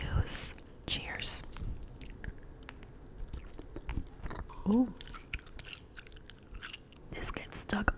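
Freeze-dried Hawaiian Punch candy chews are bitten and chewed close to the mic, giving intermittent sticky crunches and squishy mouth sounds, with a brief soft vocal exclamation in between.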